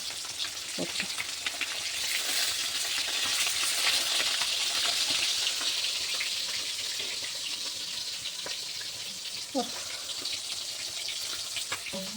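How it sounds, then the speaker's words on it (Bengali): Fish frying in oil gives a steady, fairly loud sizzle that holds for the whole stretch, with a few brief clatters and a faint splash of water midway. "দুবারে মাছ ভাজা কমপ্লিট করে ফেলবো"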